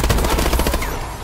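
Rapid burst of gunfire in Call of Duty Advanced Warfare, a quick run of sharp repeated shots that trails off, loud and close with no talking over it.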